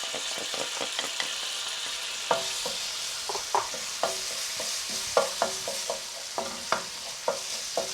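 A spoon stirs grated ginger into Thai red curry in a pan, giving irregular scraping clicks and taps over a steady frying sizzle, close and moderately loud, with no talking.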